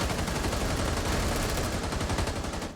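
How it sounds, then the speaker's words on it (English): Gunfire rattles in Rainbow Six Siege during a competitive match, with dense rapid bursts of automatic fire and overlapping shots crackling loudly and continuously. "Lots of gunfire going down"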